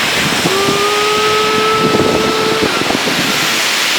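A waterfall by a bridge in Cat Cat village, Sapa, Vietnam roars as a loud, steady wash of noise that fills the whole clip, with a brief whistling tone rising above it near the start.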